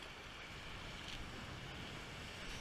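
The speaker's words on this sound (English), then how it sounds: "And look at those waves." Ocean surf at the beach in Máncora, Peru, a steady broadband roar of breaking waves blended with wind rush against the microphone, even and unbroken.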